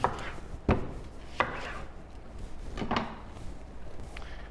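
A whole onion is cut into petal-like wedges with a knife on a board in a studio kitchen, a few sharp, close chopping strikes spaced irregularly over a low background hum.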